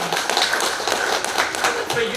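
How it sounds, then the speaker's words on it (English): Applause from the audience at a ukulele group's evening session, a dense steady patter of many hands clapping close by, with voices mixed in throughout. "Big clap."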